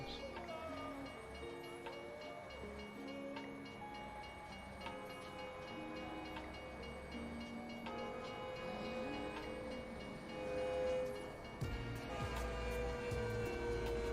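A long freight train of boxcars rolls past in American Truck Simulator on a back-country road in Canada, a steady rumble with sustained tonal hum and faint clatter, continuous and fairly distant throughout, swelling slightly toward the end.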